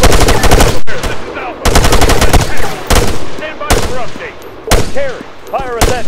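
Machine gun and rifle fire rattles in long, loud automatic bursts in the Arma 3 video game, with short pauses between volleys and single sharp shots mixed in, close and intense.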